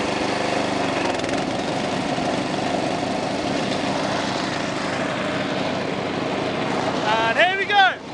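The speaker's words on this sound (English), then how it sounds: "Now let's rev this baby up. Now, drop the grass cutter!" A lawn mower engine runs with a steady, loud droning roar while cutting grass, then swells in a couple of brief revs near the end, with a person talking over it.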